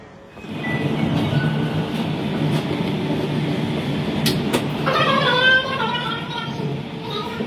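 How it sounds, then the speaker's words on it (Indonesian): A passenger train departing Yogyakarta station in Indonesia rumbles steadily with brief metallic clanks and squeals, while people talk faintly over the running noise. "Perjalanan kereta api Mutiara Selatan sudah diberangkatkan kembali dari stasiun Yogyakarta"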